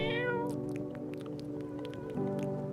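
A cat meows in the video game No, I'm not a Human, a single drawn-out call layered over a steady musical game soundtrack, loud and close with no talk.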